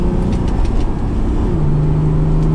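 A 1996 Acura NSX T driving slowly around a cul-de-sac, heard from inside as a loud, steady engine drone with a low hum that shifts in pitch partway through.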